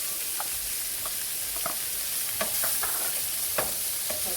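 Onions and red bell peppers stir frying on a stovetop alongside steak, a constant bright sizzle close up with scattered pops and utensil taps breaking through at irregular intervals.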